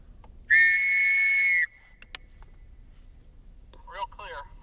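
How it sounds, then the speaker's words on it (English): A whistle blown outdoors during a kayak fishing signal test gives one loud, shrill, sustained blast of about a second, followed by quiet air with a few clicks and brief talking near the end. "Dick heard the whistle real clear."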